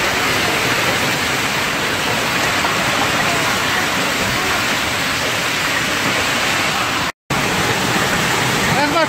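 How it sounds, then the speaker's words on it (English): Heavy hail and icy rain storm in tornado weather, a dense continuous roar of pelting ice with a brief dropout near the end, loud and unbroken throughout. "going through the storm. This is the size of hail."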